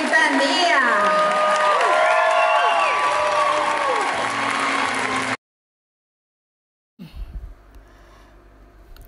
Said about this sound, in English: give a round of applause to Suzette Quintanilla